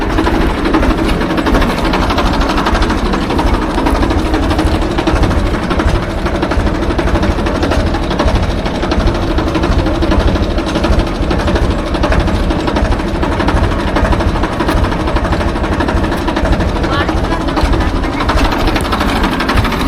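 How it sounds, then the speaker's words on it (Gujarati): A loud, steady engine drone of a tractor running a compressor at a well runs throughout with a rapid rhythmic chugging, close by and unchanging, with no talk. "આ છે ટ્રેક્ટર, કમ્પ્રેશનનું ટ્રેક્ટર છે, જોઈ લો."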